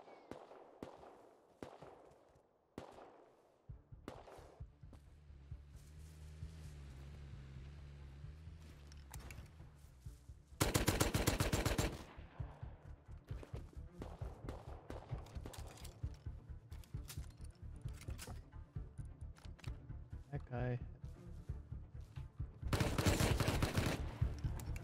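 Gunfire in the survival video game Rust rings out in scattered shots and rapid bursts, with two loud dense volleys over a quieter background of distant firing and game ambience.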